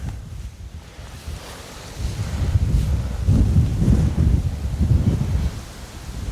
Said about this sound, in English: Man, this wind is just killer.